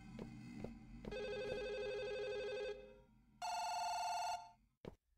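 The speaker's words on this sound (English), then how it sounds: "There's another phone ringing." Telephone bells ring out in a Chinese horror video game, a long trilling burst, a pause, then a second shorter burst, loud and close with a dull low hum beneath and a brief click at the end.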